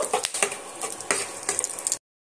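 Whole spices (cinnamon pieces, cloves and cardamom) frying in hot oil and being stirred: a close, busy sizzle with scraping and clinking for about two seconds, then silence.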